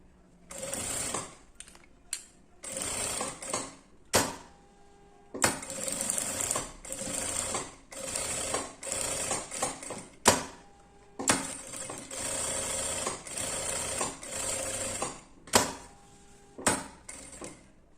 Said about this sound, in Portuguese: agora eu vou passar uma costura em toda a